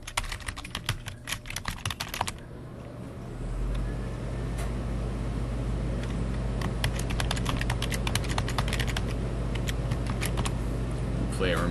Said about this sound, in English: Not used to typing it in.